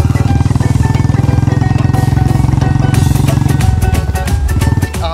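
A Royal Enfield Bullet motorcycle, set up for stunt riding at an Independence Day show, runs loud and close with a steady thumping engine note that shifts and breaks up near the end.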